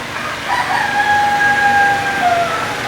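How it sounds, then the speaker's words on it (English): A rooster crows in one long drawn-out call, with chickens clucking around it, close and fairly loud against steady background noise in a workshop setting. "Oh, damn chickens."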